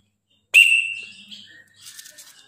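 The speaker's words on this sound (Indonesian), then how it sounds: "Kalau nggak mau pakai nama, pakai peluit juga boleh teman-teman." A single sharp whistle blast, loud and close, sounded to call a jalak kebo (Asian pied starling) chick for feeding, followed by soft bird chirps and faint rustling.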